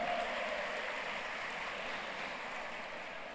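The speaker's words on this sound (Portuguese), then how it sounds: "Uma salva de palmas para esses homens aí que..." Applause for a group of men during a church service, a steady wash of clapping from a congregation that fades slightly toward the end.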